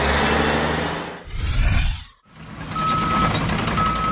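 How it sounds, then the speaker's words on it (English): A dump truck runs loud and close, with an engine surge and dip, then evenly spaced high reversing beeps sound over the idling engine. "Dump truck."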